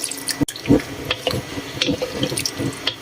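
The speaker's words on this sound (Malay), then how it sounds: "last sekali masuk bancuhan air tepung jagung untuk pekat ke kuah" Cornstarch and water slurry poured into a pan of black pepper chicken sauce, a short liquid splashing and trickling run with small drips, close and moderately loud, no talk.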